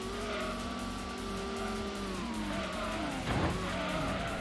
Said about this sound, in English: And we've spun it again.